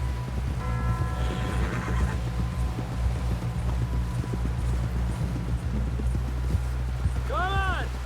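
A horse clip-clops at a gallop in the video game Red Dead Redemption 2, with a steady run of hoofbeats, a neigh near the end and a low ambient hum underneath.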